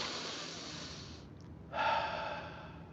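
Soft, steady breathing close to the mic, a long airy breath that stops briefly and then resumes a little louder, alone and fairly quiet.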